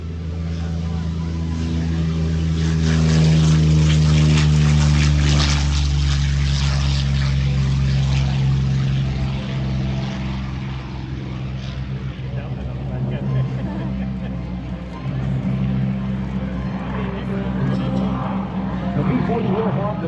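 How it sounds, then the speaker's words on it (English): A Curtiss P-40 Warhawk propeller fighter on its takeoff roll at an air show, a loud, steady low engine drone with strong harmonic tones that holds for the whole stretch, with faint talk under it. "as the P-40 is on the takeoff roll."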